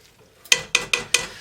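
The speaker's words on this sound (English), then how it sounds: "our onions have been cooking away for a little over an hour and they're just starting to caramelize" Onions cooking in a pot for French onion soup, caramelized after more than an hour: four crisp, evenly spaced scrapes of a spoon stirring against the pot over a quiet sizzle, heard close with no talking.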